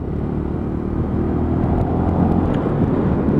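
A Lexmoto Tempest 125 motorcycle engine runs while the bike is ridden. It is a steady, loud, low rumbling drone with wind noise, even and unbroken throughout, heard close with no talking.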